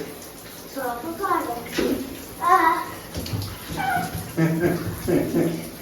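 Soapy water sloshing and splashing in a bathtub during a bath, softly and intermittently, mostly under voices talking close by.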